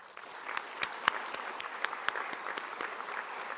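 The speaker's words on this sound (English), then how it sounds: "Let's give them a round of applause." An audience at a police academy recruit graduation ceremony applauds in a sustained round of clapping, with distinct individual claps standing out over the crowd, fairly distant in a hall.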